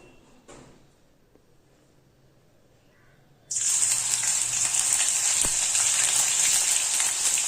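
Ginger garlic paste hits a little hot oil and starts to fry, a loud, steady sizzle that begins suddenly partway through after a quiet stretch and holds evenly to the end.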